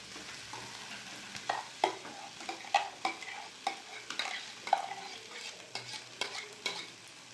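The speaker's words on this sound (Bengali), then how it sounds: "মশলাটা ভালো করে কষিয়ে নিয়েছি, বেটে রাখা পালং শাকটা দিয়ে দেবো" Ground spinach frying with spice paste in a pan, a soft sizzle broken by repeated scraping stirs that come roughly every half second, quiet and close, with no voices.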